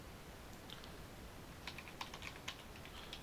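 Light typing on a computer keyboard while entering switch configuration commands, a quiet irregular patter of key clicks that grows busier in the second half, close up over faint background hiss.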